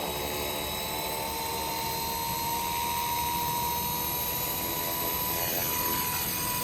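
A Blade 230s radio-controlled helicopter spins up for takeoff in stability mode, a steady high whine of motor and rotor with tonal hum, close and continuous throughout with no talk.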